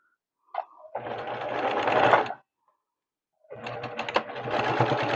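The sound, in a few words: sewing machine back tacking a bowl cozy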